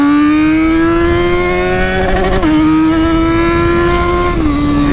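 A loud, close XJ mini motorcycle engine revs hard with a steady high-pitched whine, rising in pitch and dropping briefly twice as the throttle shifts, continuous throughout.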